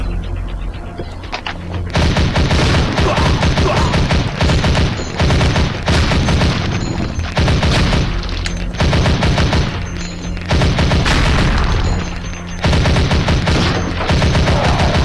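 Explosions of propane tanks mixed with steady gunfire in the zombie shooter Zombie Age 2, a dense, loud barrage of repeated shots and booming blasts running continuously with no talking.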